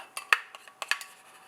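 Cream cheese and Greek yogurt mix stirred into boiling almond milk in a pot on low heat gives a handful of close, light metallic clinks and scrapes of a utensil against the pot, with no voices.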